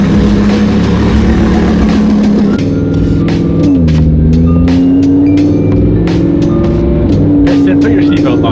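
A Lamborghini Huracan engine hums loud and close, a steady droning tone that shifts pitch up and down as the car moves, with speech mixed in.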